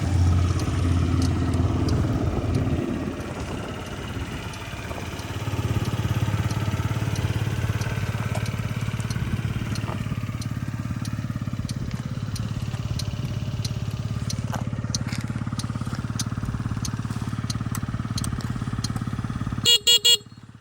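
A fuel-injected Yamaha Jog SA-39 ZR scooter engine runs steadily throughout, its hum shifting as it pulls away and rides, with a few sharp clicks at the end.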